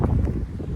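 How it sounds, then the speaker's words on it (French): Breeze blowing along the Atlantic waterfront in Nova Scotia, a steady low buffeting rumble of wind across the microphone, close and continuous for under a second. "avec un petit peu de vent là, sur le bord de l'eau comme ça"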